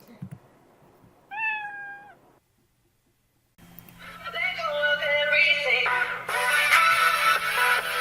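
A single drawn-out cat meow rings out clearly, then after a short silence a loud, busy wash of mixed noise takes over.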